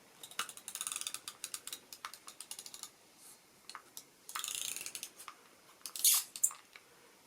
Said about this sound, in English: this is when my double-sided tape comes in handy